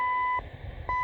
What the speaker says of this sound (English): Some Morse code